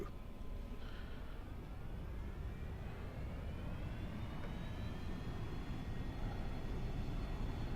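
A Cirrus SF50 single-engine jet at about 97% N1 for takeoff gives a steady, loud broadband engine roar with a rising whine, heard from inside the cockpit for several seconds with no talking.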